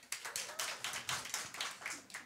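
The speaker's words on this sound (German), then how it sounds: "Einmal klatschen." A handful of audience members at a live comedy show clap in a sparse, uneven patter of about a dozen claps, faint and slightly distant.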